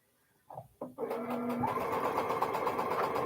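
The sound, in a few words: sewing machine sewing Elizabeth Hartman quilt block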